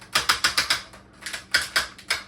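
A WFC Ark action figure's ratchet joint being worked, giving a run of sharp, close plastic clicks in two quick bursts with a brief pause between, each click crisp and evenly spaced.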